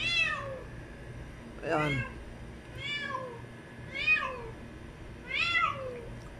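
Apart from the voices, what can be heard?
stray cat meowing on house roof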